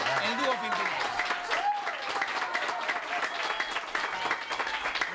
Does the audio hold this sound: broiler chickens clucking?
no